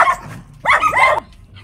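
Several dogs bark at a house in a sharp burst of yelping calls, close by, with quieter rustling and faint background sound before and after.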